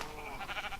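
Sheep bleat from a pen in a video game, a steady wavering animal call sitting over a low background hum, fairly faint and continuous through the short moment with no talking.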